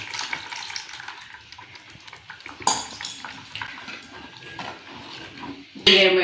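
Tamarind water is poured into masala frying for village-style okra kuzhambu, a watery hiss and splash over sizzling, with a sharp clatter midway and a loud burst of sizzle at the end.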